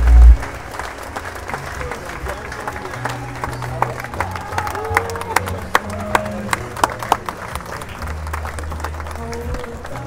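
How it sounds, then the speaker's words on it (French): A crowd applauds steadily at a sailing race prize-giving ceremony with dense, even clapping, a few sharper claps standing out, and a voice speaks briefly over it. "Applaudissements, s'il vous plaît."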